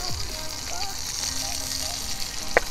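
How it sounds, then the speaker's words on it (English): Chicken shashlik pieces fry in hot oil in a pan, giving a steady close crackling sizzle throughout, with a few small pops and a brief clink near the end. "this is the sound you're looking for, the sizzling sound"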